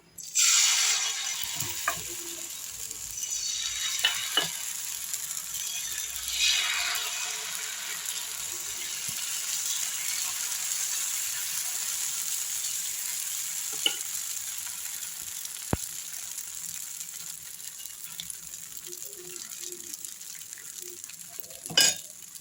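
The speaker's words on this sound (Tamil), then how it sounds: "இப்போ தோசை ஊற்றிடலாம்" Arai keerai dosa batter with a little ghee sizzling on a hot pan, a loud hiss at first that settles into a steady crackle, broken by a few sharp utensil clicks and scrapes.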